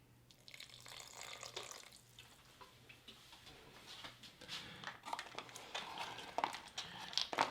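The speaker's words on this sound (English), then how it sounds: "I'll add a little more water to it." Water trickles faintly into a pot of couscous with lentils and spinach, a soft, uneven splashing and dribbling that grows slightly toward the end, with no talking.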